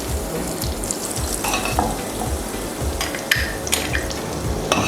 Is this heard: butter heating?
yes